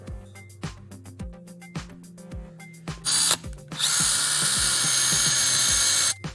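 A power drill bores a hole into a wall stud: first a few short clicking bursts, then two loud sustained whirring runs up close, the second lasting about two seconds before cutting off.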